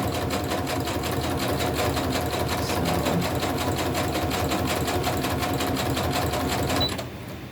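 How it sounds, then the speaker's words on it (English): A sewing machine runs a zigzag stitch through velvet fabric with a fast, steady mechanical whir and rhythmic ticking. It is loud and close, runs without a break for about seven seconds, then stops. "This one shreds really easily, so I'm using a zigzag stitch on it."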